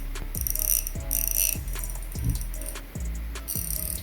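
A Ko-ken ratchet mechanism is worked back and forth up close. Crisp, regular pawl clicks come in several quick runs, loud and clear with nothing else over them.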